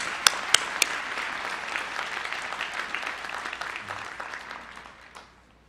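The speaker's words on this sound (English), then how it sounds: "Let's have a round of applause for all of our county award winners." An audience applauds county award winners at a December graduation ceremony, starting with a few sharp claps and swelling into steady, dense clapping throughout the hall before tapering off near the end.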